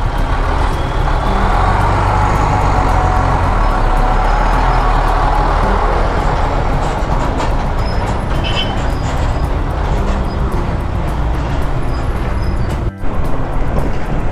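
Heavy road traffic with large trucks close by: a loud, continuous low rumble and engine drone with grinding tire noise, steady throughout with a brief dropout near the end.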